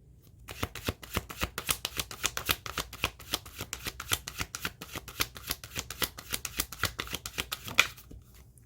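A deck of tarot cards is riffled and shuffled in a quick, even run of crisp flicking bursts lasting several seconds before stopping, close and fairly quiet, with no talking.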